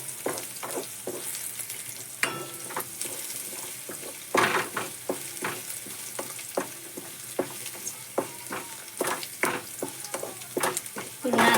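A batter mixture with sesame seeds fries in a pan for a crispy breakfast snack, with a steady close sizzle broken by irregular clinks and scrapes from stirring.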